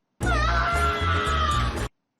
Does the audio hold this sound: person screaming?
yes